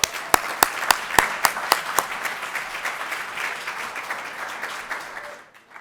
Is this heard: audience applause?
yes